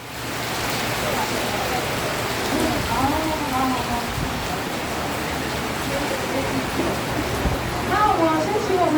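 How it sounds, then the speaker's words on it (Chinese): Rain pours steadily over an outdoor community gathering, a constant close hiss of drops on surfaces, with people's voices rising now and then beneath it. "哦，下雨"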